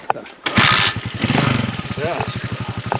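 Motorcycle engine running in a small town in Kazakhstan, a steady rapid putter that sits close and loud, with people talking over it.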